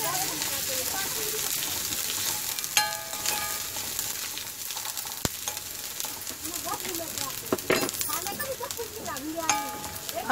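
Red chilli powder is stirred into a frying egg and tomato masala in a pan: a continuous close sizzle with irregular spatula scrapes and clinks against the metal.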